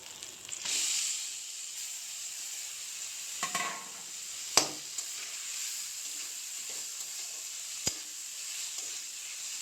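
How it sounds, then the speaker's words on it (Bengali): Flattened rice frying in oil with fried chilies over a low gas flame, a faint, steady sizzle with a few sharp clinks and scrapes from stirring, no talking. "চিড়াগুলো দিয়ে গ্যাসের চুলার আঁচটা একদম লো ফ্লেমে রেখে হালকাভাবে ভাজি করতে হবে।"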